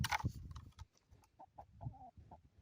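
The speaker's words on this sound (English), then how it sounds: "Hi, chicken." A chicken makes soft, short clucks, a few scattered notes heard faintly near a workbench where a chainsaw is being examined, after some handling noise.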